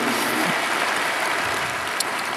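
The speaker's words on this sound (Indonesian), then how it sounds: "Berikan tepuk tangan kita untuk Tuhan kita." Steady, loud applause from a church congregation fills the space, a thick wash of many hands clapping continuously with no pause or speech.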